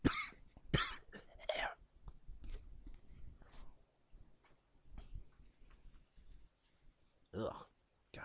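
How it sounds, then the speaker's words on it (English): A man coughing up phlegm, with harsh, close coughs and throat-clearing in the first few seconds, then quieter wet throat noises, spaced-out rasps and a final cough burst, all at low level. "Coughing up phlegm."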